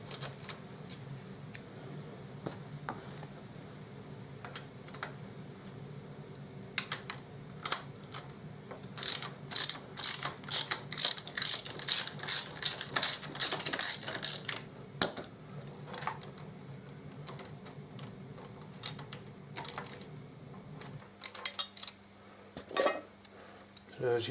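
A ratchet undoing frame bolts on a Harley-Davidson Deuce trike during a trike conversion, heard as a long run of rapid metallic clicks and clinks in bursts that peaks midway, close to the microphone above a low steady hum.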